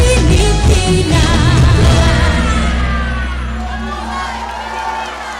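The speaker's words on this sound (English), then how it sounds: "Let's give a big round of applause because that was Lahing Batangan Dance Troupe" A gala audience at the 75th Indo-Philippine Cultural Exchange Summit cheers and whoops loudly for the Lahing Batangan Dance Troupe, with music still sounding underneath as the noise gradually fades.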